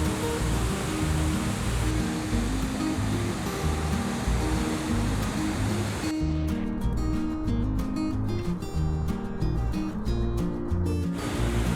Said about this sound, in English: we arrived at the main attraction of Firehole Canyon Drive, Firehole Falls